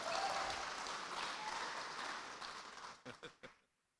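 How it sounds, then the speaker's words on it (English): Audience at an aircraft launch event for the 750XL-II SuperPac applauds as a chief pilot is welcomed to the stage, steady full clapping that thins into a few last claps and stops into silence. "A round of applause, please."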